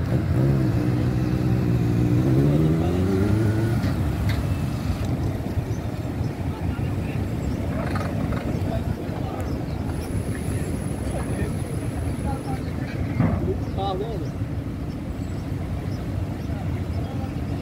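A river ferry crossing to Sergipe pulls in while cars roll off, heard as a steady low engine and vehicle rumble with wind buffeting the microphone and voices talking over it throughout.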